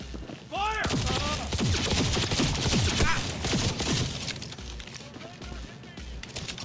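Rapid hip-fired gunfire in Cyberpunk 2077 comes as dense bursts of shots, loud and continuous across most of the clip, with game effects and voices mixed under the firing.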